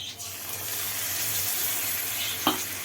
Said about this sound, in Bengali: তো আবারও কষিয়ে দিয়ে দিচ্ছি মশলা